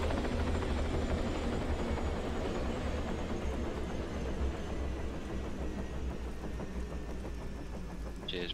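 A helicopter in the video game Arma 3 Epoch, its engine and rotor roar steady, loud and continuous throughout, no speech over it.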